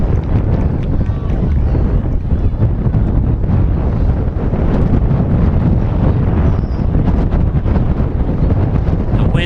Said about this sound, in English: The wind's off Seneca Lake.